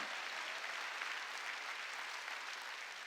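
A church congregation claps during a sermon, producing a faint, even wash of many hands applauding together, steady for a few seconds with no speech.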